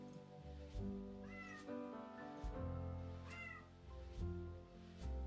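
A cat meows again and again in a quiet room, with several separate, fairly close meows coming at an uneven pace and no talk.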